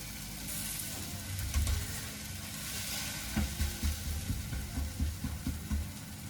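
Nachni (finger millet) dhapate coated with lots of sesame seeds sizzle steadily on a hot pan, a continuous close frying hiss with soft scraping or stirring noises and no voices.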